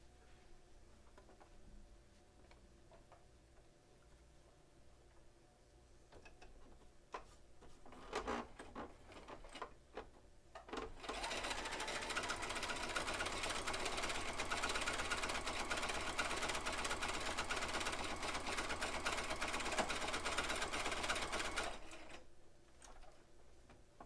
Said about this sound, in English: I'm going to sew on either side now